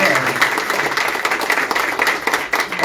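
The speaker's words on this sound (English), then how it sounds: "that's worth a round of applause" Audience applause at a school district teachers' opening day event, loud rippling clapping from a large crowd with a voice speaking over it.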